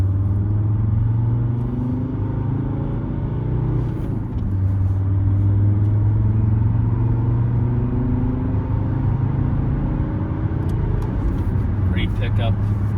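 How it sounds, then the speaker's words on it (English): A 1997 Mercedes W210 E290 turbodiesel with a five-speed manual cruising on an open road, its low, steady engine drone and tire rumble filling the whole stretch, with slight swells in pitch as it pulls along. "finally get this incredible W210 out on the open road"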